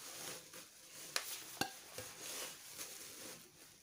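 A Wonderchef Blueberry induction kadai is handled and set down, giving a couple of sharp metallic clinks and light handling rattles, close but quiet, with no talk.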